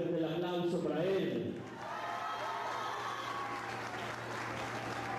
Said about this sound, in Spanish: Asimismo, recibimos, él es Archundia, fuerte el aplauso para él.